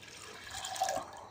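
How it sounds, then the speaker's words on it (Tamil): Water poured into a home remedy mixture containing turmeric powder, a short, soft trickle and splash close by, with no voices. "இது வந்து இன்னும் கொஞ்சம் தண்ணி மிக்ஸ் பண்ணலாம்."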